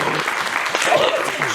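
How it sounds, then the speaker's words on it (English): An audience at a curiosities show breaks into brief, dense applause, a close wash of clapping that fills the short moment. "if you want to clap, you can"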